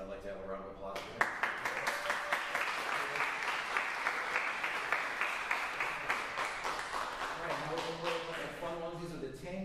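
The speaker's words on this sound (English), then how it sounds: "I'd like to have a round of applause for him." An audience at a saxophone faculty recital breaks into a warm round of applause, rhythmic clapping rising after someone speaks and fading as his voice returns near the end.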